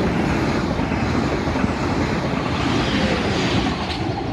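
A train runs through St Denys station on the Weymouth service, a steady loud broadband rumble of wheels and engine holding throughout with no break, close by and without voices.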